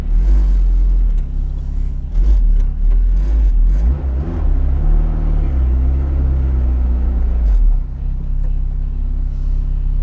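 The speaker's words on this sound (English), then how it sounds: "That fuel injection is nice. There's no choke. No. You just turn the key." A 1979 Mini Special Turbo with a fuel-injected engine idles steadily after starting, its low rumble close and loud throughout with slight revving swells in the middle.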